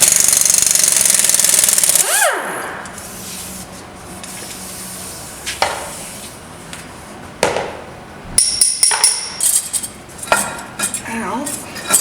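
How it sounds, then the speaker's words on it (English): A tool works the bolts loose from the oil cooler cover on a 2010 Volvo D13 truck engine. A loud, steady rattling burst is followed by scattered metallic clanks and taps from the parts being handled nearby. "Pull these bolts out of the way."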